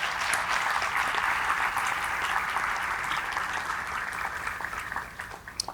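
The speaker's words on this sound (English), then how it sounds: "If we could please first have a round of applause for our panel." A room full of people applauds a panel at a morning discussion event, dense continuous clapping that holds steady and then thins out toward the end, with no talking over it.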